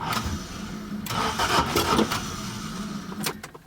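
A 1975 Toyota Corolla KE35 with a busted starter and blown exhaust cranks and catches, then runs roughly in uneven bursts for a few seconds, close and moderately loud.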